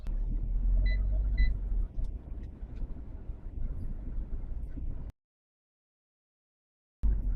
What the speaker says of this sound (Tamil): ஸோ வண்டி எடுத்துட்டு ஒரு சின்ன டெஸ்ட் டிரைவ் போவோம்